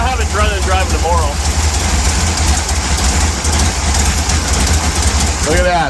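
A 1955 Chevy engine idles low and steady, a continuous rumble throughout with people talking over it.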